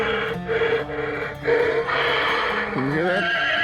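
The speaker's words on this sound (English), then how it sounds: "So, there is the noise he makes." Animatronic Halloween horse prop giving an electronic neigh, a loud wavering whinny with pulsing tones that ends in a falling pitch, close by.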